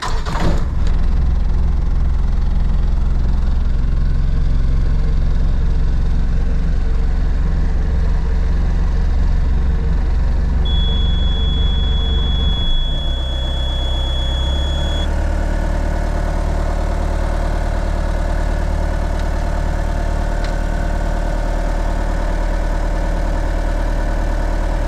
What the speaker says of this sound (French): On chauffe un petit peu le moteur.